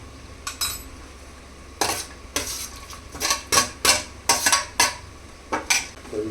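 Onions, chillies and carrot are stirred in a pot with whole spices, and a metal spoon scrapes and clinks against it in quick uneven strokes over a light sizzle, close and without talk.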